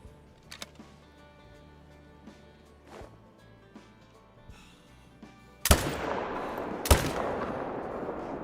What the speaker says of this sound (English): We're gonna shoot those 2 bucks.